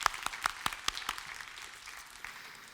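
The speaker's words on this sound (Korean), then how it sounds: "목사님, 사모님 죄송하지만 잠깐 일어나 주시면 큰 박수로 환영하도록 하겠습니다." A church congregation applauds to welcome a pastor and his wife at an anniversary service, several sharp claps up close over steady crowd clapping that gradually thins and softens.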